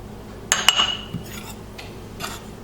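Flour, baking powder, salt and sugar are mixed in a bowl: a few sharp utensil clinks against the bowl, then softer scraping stirs, close and alone.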